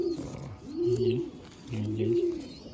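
Pigeons in a loft coo in two soft, rolling phrases close by, with faint background voices.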